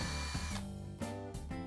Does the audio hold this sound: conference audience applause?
no